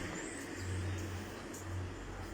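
A car passes on a deserted street in Villarosa, Enna, Sicily, a low engine hum and tire rumble rising and easing, moderately close against quiet town ambience, with no talking.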